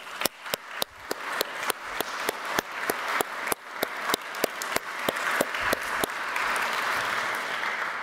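Applause from an audience in a hall at a presentation event, beginning as a string of sharp, evenly spaced claps from one nearby person before more hands join and it swells into a steady, fuller round.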